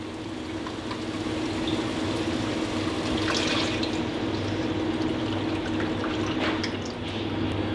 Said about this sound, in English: now I'm going to add in 3 cups of low sodium beef broth